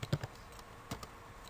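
Quiet keystrokes on a computer keyboard come as a few scattered soft clicks, close by but faint, in a short burst of typing.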